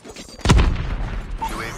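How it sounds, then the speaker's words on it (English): A predator missile blast from the Call of Duty video game lands as a sudden loud boom, its low rumble lingering and fading over a second amid faint game sounds. "Friendly predator missile inbound."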